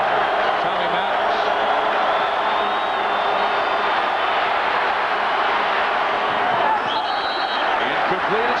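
Steady roar of a football stadium crowd during a 1990 UCLA versus Washington State game, a dense and constant wash of noise with no breaks that sits under the sound of the broadcast.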